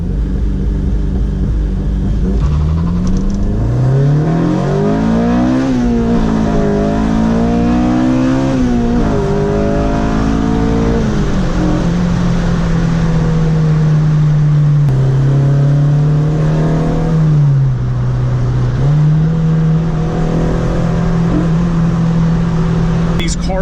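A Honda Civic FG2 engine revs hard and loud, its pitch climbing steeply as VTEC engages, then holds a high, sustained drone with small dips; a voice talks briefly under it.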